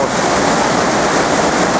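A fast river current rushes in a mountain gorge in Asturias, a loud, dense, continuous roar of water with some wind buffeting at the microphone.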